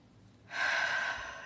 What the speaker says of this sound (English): Let's just breathe right now. A couple of nice deep breaths.